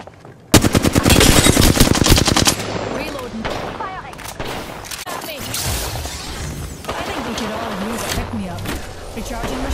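Gunfire in the video game Apex Legends: a loud burst of rapid automatic fire at first, then scattered shots, impacts and game effects continuing under voices.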